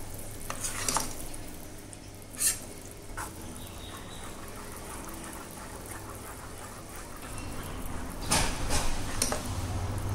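A spoon stirs upvas dhokla batter in a bowl after soda is added, giving repeated scraping strokes and a few sharper clinks over a faint background hiss.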